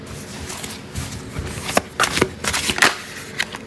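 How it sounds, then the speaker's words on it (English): Tarot cards shuffled and drawn from the deck, a soft papery riffle followed by several sharp slaps and flicks as cards are pulled and laid down, close and fairly clear with no talk. "let's pull a card for the Divine Feminine"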